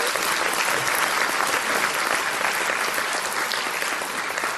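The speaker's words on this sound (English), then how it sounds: "this lady deserves, from me at least, a huge round of applause" An audience applauds for Raveena Tandon at a world fusion music event, with dense, sustained clapping from a large crowd that stays loud and even throughout.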